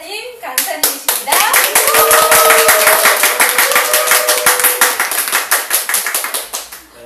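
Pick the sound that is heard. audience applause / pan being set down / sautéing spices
audience applause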